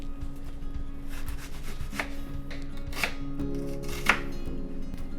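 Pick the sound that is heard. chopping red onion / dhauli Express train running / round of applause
chopping red onion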